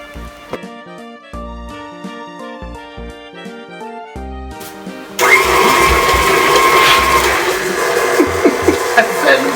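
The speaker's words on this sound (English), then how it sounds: "We're gonna mix our sugar for 2 minutes and butter." Light music plays before an electric kitchen mixer switches on and whirs loudly and steadily as it beats sugar and butter for a pound cake.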